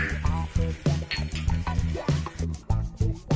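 Chopped onion drops into hot oil for a Maharashtrian mixed bhogi vegetable dish and sizzles loudly and steadily, with repeated rhythmic stirring or scraping clacks on the pan running through the frying hiss.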